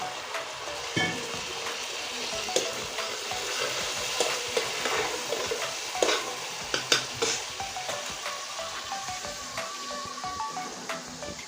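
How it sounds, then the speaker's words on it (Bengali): Spice paste frying in a pan for an egg and eggplant curry, a steady close sizzle with scraping stirs and clacks of a spatula throughout, no voices. "এবার অল্প পরিমাণ জল দিয়ে দিচ্ছি নাহলে মশলাটা পুড়ে যাবে"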